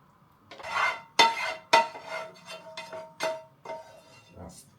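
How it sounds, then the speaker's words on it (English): A spoon or spatula scrapes cooked meal-prep food out of a pan into a bowl, making a series of clinking metallic scrapes and taps, about eight irregular strokes, close and alone. "I'm gonna scrape this into a bowl here"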